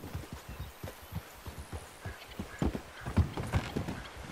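Steady clip-clop of a Mahogany Bay Tennessee Walker's hooves trotting at an even rhythm in Red Dead Redemption, moderately quiet, with a faint whinny-like tone near the end.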